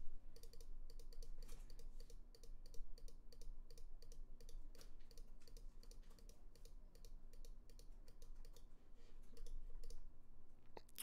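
Rapid, even mouse clicks while stepping through synth presets in Native Instruments Massive, a close, quiet clicking rhythm that runs nearly unbroken under a faint hum.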